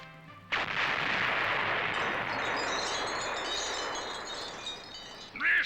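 A grenade explosion during grenade practice: a sudden loud blast that turns into a long, broad rumbling roar and holds for several seconds before ending abruptly, with no talk.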